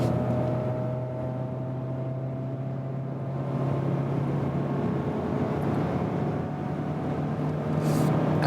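A Mazda CX-30 with manual gearbox accelerates in third gear, a steady engine drone with a rising tonal hum holding loud and continuous throughout, heard from inside the cabin.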